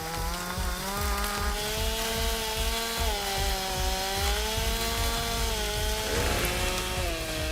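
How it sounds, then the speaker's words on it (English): A chainsaw roars steadily as it cuts through a log, its engine pitch wavering slightly under load with a rough, continuous grinding texture. "He locks the chainsaw in and tilts the blade into the wood."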